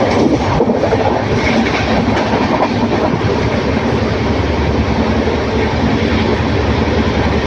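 Passenger train on the Coimbatore to Erode line in Tamil Nadu running at around 80 km/h, a steady loud rumble of wheels on rails with faint clickety-clack, heard from inside the carriage with no talk.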